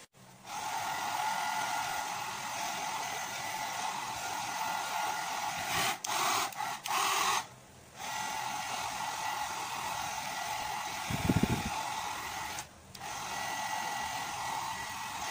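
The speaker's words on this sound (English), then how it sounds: "Para mas madali itong matuyo, gamitan natin ng blower." Electric blower drying a freshly washed motorcycle center stand, a steady airy whoosh running almost continuously with a few brief cut-offs and restarts, close and fairly loud, no speech.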